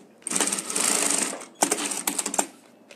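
A sewing machine stitches a dart on a pocket in a long close run, then a series of shorter, stuttering bursts.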